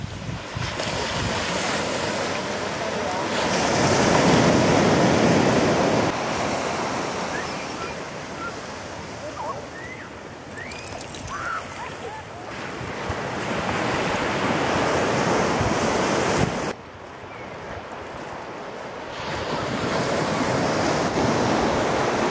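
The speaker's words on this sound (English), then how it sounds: "So here's the beach, Playa la Penca." Ocean surf washes steadily onto the beach at Playa la Penca, Costa Rica, a continuous loud roar of breaking waves with wind buffeting the microphone.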